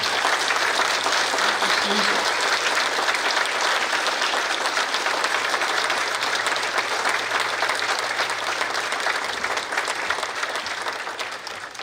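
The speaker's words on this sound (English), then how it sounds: "Let's give a big applause for Susan Magner and her team." A standing audience at a veterans dinner social in North Reading, Massachusetts, applauds loudly and steadily in a dense, sustained wash of clapping that fades slightly toward the end, with a voice faintly audible underneath.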